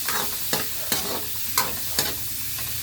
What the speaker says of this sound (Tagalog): igigisa mo na yung pork para mas lumambot